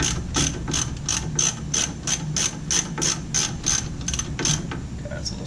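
Ratchet wrench clicking steadily as it tightens a wheel stud on a 2014 Ford Explorer hub, roughly a dozen quick, evenly spaced pawl clicks, close and clear with no talking.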